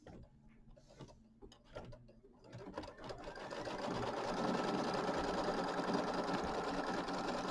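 Sewing machine stitching quilt batting down on a mini quilt, starting with slow, uneven ticking stitches that speed up into a steady, fast whirring hum of close, continuous needle strokes.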